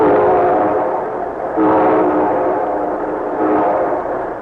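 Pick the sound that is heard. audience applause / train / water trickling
train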